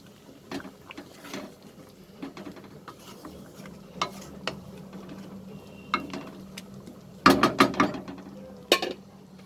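Chicken pieces being stirred into gravy in a pot for butter chicken: a run of scraping, clacking spoon strokes against the pot, irregular and close, growing busier and louder toward the end, with no talking.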